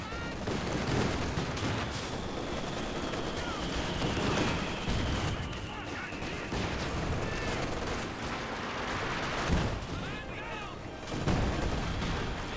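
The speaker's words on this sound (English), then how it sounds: "Artillery barrage ran in, gets a good hits there." Artillery barrage in Company of Heroes 2: dense continuous rumbling gunfire and blasts, with a faint whistling shell streak and a sharper explosion near the end, dense battle din under voice.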